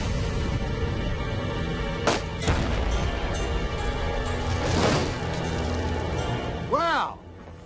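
AK-47 rifle rounds fired outdoors into a cinder block: two sharp cracks close together near the start, then a broader bursting impact a few seconds later, with people talking throughout.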